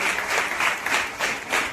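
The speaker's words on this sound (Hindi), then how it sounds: "आइए हम जोरदार तालियों के साथ उनका धन्यवाद करें।" Loud applause from a church congregation at a prayer-house opening, a dense continuous wash of clapping with rhythmic swells throughout.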